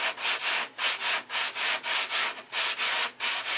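Wood being sanded by hand in a workshop, a close, loud rasping scrape repeating in steady strokes about three times a second, with brief pauses between passes and no voices.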